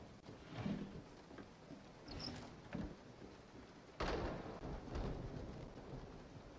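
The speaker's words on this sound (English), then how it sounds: "This rain is really..." Rain and thunder in the horror video game Resident Evil 7, with faint steady rainfall, scattered low rumbles and a sharper thunder crack about two-thirds of the way through, all fairly quiet and with no talking.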